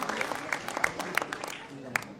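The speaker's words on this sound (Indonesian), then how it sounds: "Kita berikan tepuk tangan yang meriah untuk tanggapan dari Pak Yusuf Kalla." Scattered audience claps ring out through a studio debate over low murmuring, with sharp individual hand strikes standing out in a fairly thin, uneven burst of applause.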